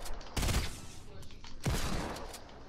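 Two bursts of rapid gunfire in Fortnite crack out about a second apart, loud and dense, over a busy background of game sounds.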